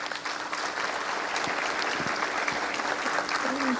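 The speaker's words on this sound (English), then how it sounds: "Let's give them all a round of applause." Audience applause at a graduation ceremony, steady dense clapping from a crowd filling the whole stretch at an even, fairly loud level.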